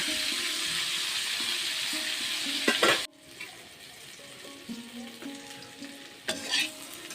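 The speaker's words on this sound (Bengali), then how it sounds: "অল্প লাল করে ভেজে নেব" Bitter gourd fries in hot oil with a loud, steady sizzle that drops to a softer crackle, broken by occasional stirring scrapes.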